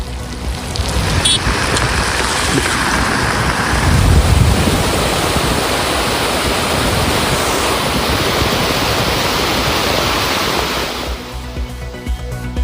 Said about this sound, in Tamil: கடலூர் மாவட்டத்தில் பெய்த மழையால் தண்ணீரில் மூழ்கிய தரைப்பாலம்.